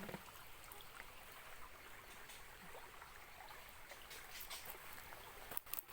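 Soft, steady rush of cold stream water flowing at the foot of a hill in a farm field, faint and continuous, with a few light splashes and clicks near the end.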